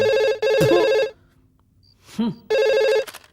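Telephone bell ringing loudly in two long bursts separated by a pause, with a brief voice in between.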